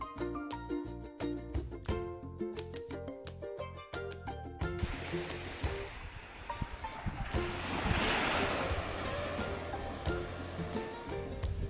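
Plucked tonal music plays briefly, then gives way to a steady roar of sea waves washing onto Kappad Beach in Kozhikode, Kerala, with wind buffeting the microphone.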